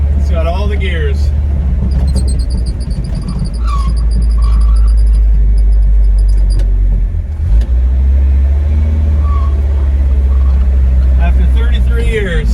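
A 1979 Ford Courier 4x4 pickup, running again after sitting 33 years, idles with a loud, continuous low engine rumble close by as it is shifted into reverse, with a faint whine above it.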